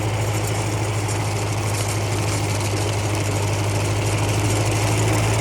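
A tractor engine runs steadily while haymaking, with a heavy, low droning throb, loud and close, unchanging throughout with no talking.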